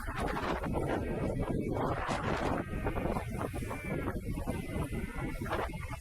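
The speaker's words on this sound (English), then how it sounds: "You see the wind is blowing that way." Strong wind buffeting a small camera microphone at a windy kiteboarding spot, producing continuous loud roaring rumble and gusty flutter that fill the whole clip, close and unbroken.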